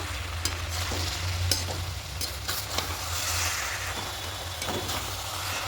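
Cabbage and chicken being stirred in a pot, a steady close wet sizzle with soft scraping strokes and occasional clinks of the spoon against the pot, no talking.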